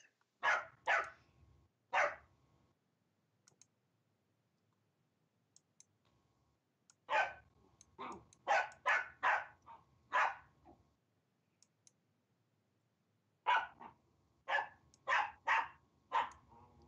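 An excited puppy barks in several quick clusters of sharp yaps, two to four barks at a time with pauses of quiet between, fairly close and clear with no talk over it.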